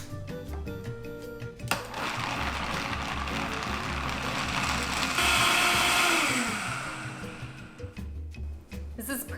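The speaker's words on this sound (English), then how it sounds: "We're gonna blend this so it's nice and smooth." A blender whirs loud and steady for several seconds, puréeing soaked cashews with water into a smooth cream. It starts abruptly, swells toward the middle and then winds down, with faint handling sounds before and after.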